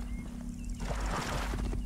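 Horse hooves clip-clop in Assassin's Creed Origins, a quick run of soft steps starting partway through over a steady game ambience and low hum.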